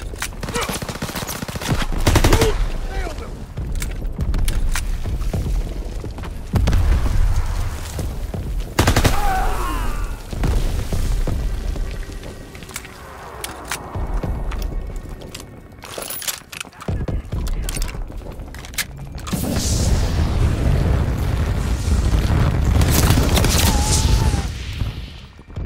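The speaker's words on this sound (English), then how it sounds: "Our artillery is hitting the beach." Gunfire and artillery blasts on a beach assault in Call of Duty WWII on PS5 Pro, a dense continuous battle din with repeated sharp shots and heavy booms, loud throughout.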